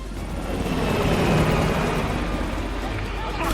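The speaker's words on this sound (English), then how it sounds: "the chopper got away" Helicopter flying away during a mission in the video game Call of Duty: Black Ops Cold War, a steady broadband rotor rumble that stays loud and continuous throughout, with game action and voices mixed in.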